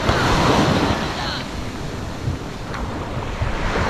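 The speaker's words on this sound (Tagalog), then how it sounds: "Pero yan, kalmada pa yan, alon mo yan dito." Calm sea waves wash onto a sandy beach in a steady, continuous surf wash with light wind noise across the microphone, fairly close and loud throughout.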